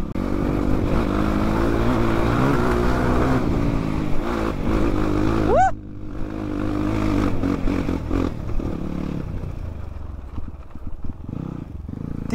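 A motorcycle on a rough, steep mountain road runs loud and close, its engine droning and rising in pitch as it revs before easing back, with rattling and clattering from the rough surface below.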